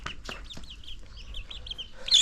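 A free-range country hen clucks softly on a farm while her four chicks peep nearby, with a few low clucks at the start and then a run of thin, high chick cheeps, close and moderately quiet.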